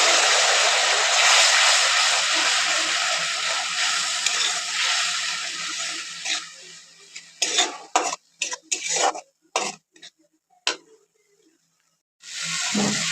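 Curry masala for a soybean and egg dish sizzles hard in the pan after a little water goes in, then the hiss dies into broken stirring, with a spoon clattering against the pot in short bursts, then a brief sizzle again.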